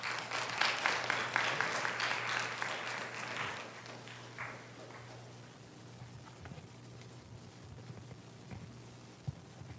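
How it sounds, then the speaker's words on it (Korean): A church youth-group congregation in a worship hall claps to welcome a missionary, a steady burst of applause for several seconds that fades to scattered claps, with a low steady hum underneath. "우리 선교사님 앞으로 나오실 때 같이 함께 박수로 환영하도록 하겠습니다"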